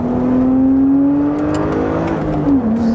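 A high-mileage BMW Z4 Coupe drives hard, its engine note steady and close, with the pitch climbing gradually under acceleration before a brief dip near the end. There is no talking.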